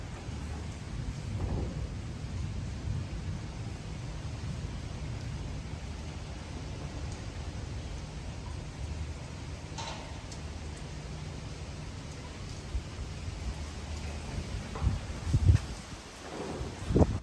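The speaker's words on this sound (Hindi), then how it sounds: "और ये जी रात को शदीद किस्म की आंधी तूफ़ान।" A severe night windstorm: a steady low roar of wind with rumbling thunder-like swells and rustling gusts, building to a few louder bursts near the end, with no voices.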